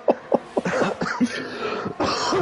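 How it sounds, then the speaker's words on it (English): A few short, quick coughs burst out near the start, followed by soft breathy throat sounds and light vocal noises, fairly close and quiet. "was that a little cough that just came out of you there"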